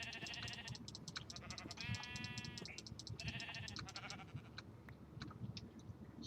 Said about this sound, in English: Oh, look, sheep.